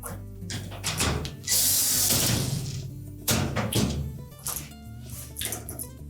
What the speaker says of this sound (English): Reinstall the mounting screws.